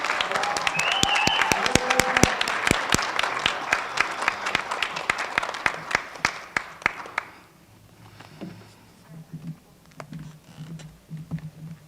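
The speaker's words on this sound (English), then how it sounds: "Please join me again, those here with us and those of you at home, for another round of applause." Graduates at a graduation ceremony are applauded with loud, sustained clapping from a crowd for about seven seconds, which then thins to a few scattered claps over low background noise.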